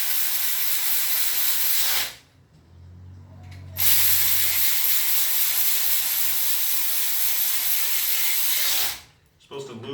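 Wrench ratcheting steadily while tightening bolts into an 800hp engine shortblock during assembly, loud and close with a brief pause in the middle.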